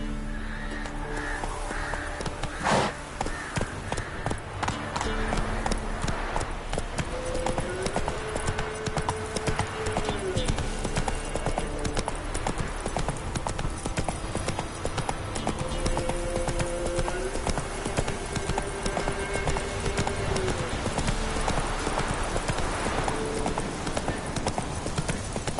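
Roach the horse galloping in The Witcher 3, a continuous rapid hoofbeat rhythm close by over game ambience, with crows cawing and a soft whinny along the way.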